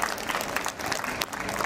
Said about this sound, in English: I think the rising stars of PIS deserve a huge round of applause.